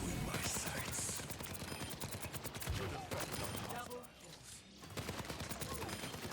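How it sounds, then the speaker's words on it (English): Rapid, continuous automatic gunfire from Soldier 76's ultimate in the Overwatch video game, dense bursts of shots filling the whole stretch with a brief dip near the end, loud and close. "Soldier 76's ultimate allows his bullets to never miss."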